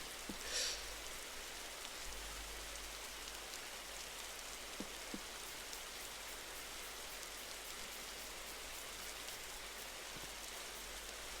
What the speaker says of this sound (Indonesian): Kalian bisa dengar kan suara hujannya kan?